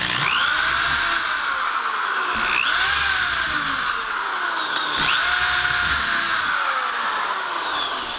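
Power drill whining steadily as it drives a screw into a king size bed headboard, loud and continuous with pitch rising and falling in repeated sweeps.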